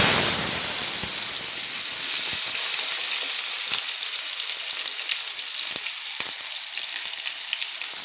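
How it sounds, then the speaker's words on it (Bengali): Diced potatoes frying in hot oil for ol chingri dalna, a steady dense sizzle and hiss with occasional soft crackles and stirring taps, close and continuous. "আলুগুলোকে লাল লাল করে ভেজে নেওয়ার জন্য"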